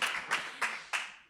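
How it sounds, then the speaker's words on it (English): Faint audience applause, heard as four evenly spaced sharp claps in a quiet room, each ringing briefly before the next. "a big round of applause for you too for organizing all this"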